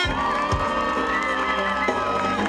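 Crowd cheering and whooping at a concert in Elazığ, a broad sustained roar from a large audience with music tones running beneath it.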